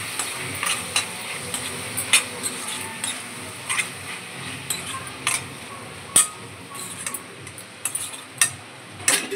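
Tomato pieces with ginger-garlic paste and turmeric are stirred in a frying pan: a steady low sizzle with repeated spoon scrapes and light clinks against the metal, close by and without talk.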